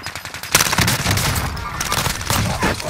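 Heavy automatic gunfire in Call of Duty Warzone on Rebirth Island, with M4A1 and CX-9 bursts: a sustained, loud volley of overlapping shots that erupts after a brief quiet start and keeps rattling without pause.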